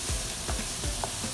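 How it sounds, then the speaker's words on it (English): Burdock root sautéing in a pan: close, continuous sizzling with soft rhythmic stirring scrapes, heard alone. "Gonna keep sauteing it."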